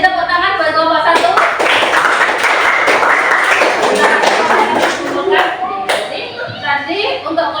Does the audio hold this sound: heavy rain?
no